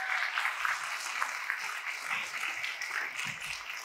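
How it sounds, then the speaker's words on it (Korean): Congregation applauding at a church gathering, sustained dense clapping from a crowd, even and moderately loud with no talk over it. "박수 한번 맞아주십시오"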